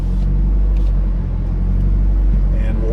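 A car engine on a standalone ECU idles slightly high, giving a steady, close, low rumbling drone with no revving.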